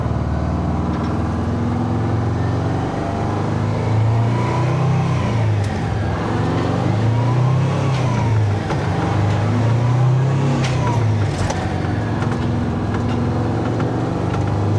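A 1972 Peterbilt truck drives along with its engine droning and revving steadily throughout, a loud, continuous low rumble with rising and falling pitch and no talk.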